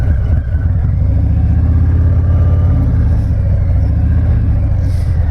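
A custom Stage III Harley-Davidson Sport Glide engine under throttle, a loud, continuous low rumble with a steady pulsing throb and audible intake breathing, heard up close while riding.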